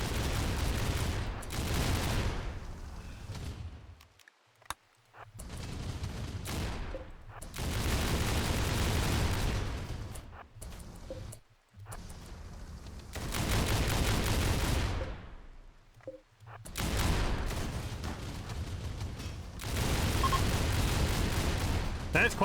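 Gunfire in the colony sim Rimworld, with Imperial Guard troops in battle: long rolling volleys of rapid shots in several waves separated by short lulls, with talk over the top.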